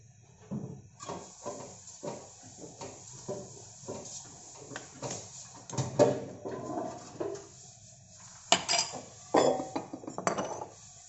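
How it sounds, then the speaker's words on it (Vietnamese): Herbal chicken soup with black-skinned chicken being ladled from a pot into a clay serving pot, with repeated close clinks and clatters of the ladle and pottery, irregular and moderately quiet, growing busier toward the end. "Rồi mình sẽ múc ra, xong rồi mình múc ra thố nha các bạn"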